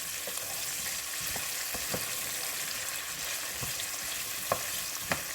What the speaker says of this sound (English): we're just gonna saute these a little bit